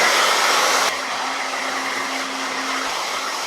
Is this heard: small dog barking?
no